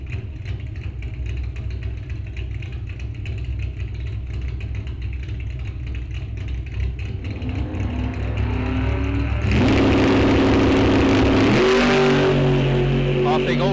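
Drag racing cars launch side by side from the starting line at Rock Falls Raceway, a Chevrolet Camaro in one lane. Engines rumble at idle, then swell into a loud, sustained roar with rising revs, under an announcer's voice.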